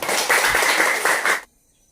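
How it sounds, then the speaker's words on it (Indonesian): Students in a classroom clap together in a short burst of applause, fairly loud and close, lasting just over a second before stopping abruptly into silence. "tepuk tangan"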